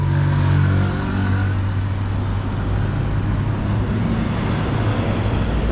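A bus runs along a quiet road in Putrajaya, its steady engine drone loud and close at first, then settling into a continuous rumble of passing road traffic, with no talk.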